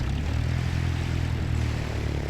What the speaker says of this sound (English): looks like another plane coming in there for land